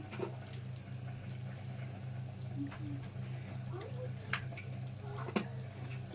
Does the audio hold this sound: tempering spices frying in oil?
yes